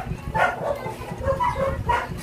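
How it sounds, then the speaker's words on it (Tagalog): Dogs barking downstairs, with about three short bursts of barks spread over a couple of seconds, moderately distant over a low background hum. "Ingay po ng mga aso sa baba, guys."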